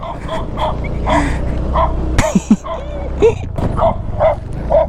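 A dog yips and barks a few times, short and fairly close, mixed with whimpery cries and some background voices and noise.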